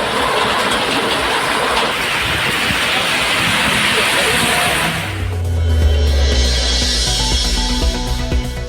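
Widespread rain in Tiruvallur, Krishnagiri and Madurai districts, a steady loud downpour hiss for several seconds before it cuts to a deep rumbling, droning vehicle-like sound.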